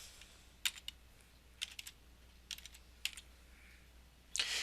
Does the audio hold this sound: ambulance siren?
no